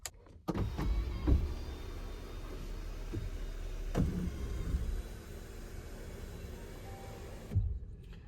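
An electric sunroof on a Toyota Hyryder Hybrid SUV glides open with a steady, smooth motor whir lasting several seconds inside the quiet cabin. Soft clicks sound at the start, and a thump comes as it stops.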